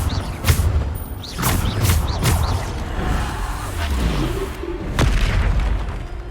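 Spell explosions in a video game land as a series of booming bursts and whooshing blasts, with layered magical effects and rumbling impacts among game sounds.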